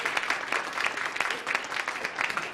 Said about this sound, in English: I wanted to give you applause because I like that.